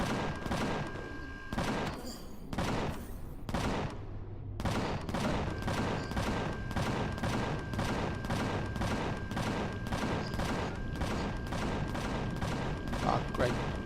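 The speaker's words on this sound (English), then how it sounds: "my ship is getting very, very enthusiastic about shooting everything in sight" Spaceship guns in Empyrion Galactic Survival firing in a rapid, evenly spaced stream of loud bursts after a few irregular opening shots, with a steady tone underneath throughout.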